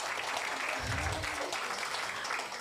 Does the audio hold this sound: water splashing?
no